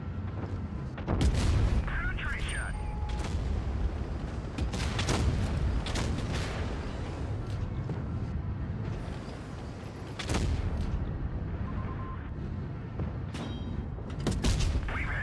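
Heavy cannon shots boom in World of Tanks against a T57 Heavy, several loud sharp blasts spaced seconds apart over a rumbling engine bed, with someone talking throughout.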